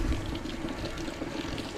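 Water sloshing inside a shaken drum without a removable top, a steady churning wash of liquid that stays close and even for a couple of seconds, with no voices.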